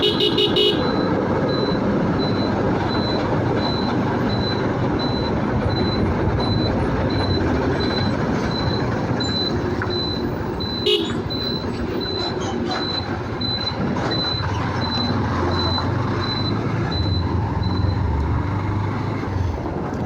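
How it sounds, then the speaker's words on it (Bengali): A motorcycle's turn signal buzzer beeps steadily and continuously in a regular pulsing pattern while riding, heard under loud road and engine noise throughout. "আমি বামে সিগন্যাল দিয়েছিলাম এবং বাজার সাউন্ডটা কন্টিনিউয়াস চলতেছিল"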